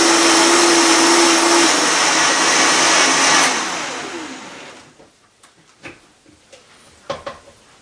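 A blender making a smoothie whirs loudly at high speed, then winds down and stops, leaving a few light clinks and taps.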